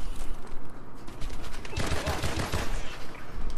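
A gun firing in a video game shooter, quick bursts of sharp shots clustering in a rapid volley in the middle, moderately loud over faint background voice.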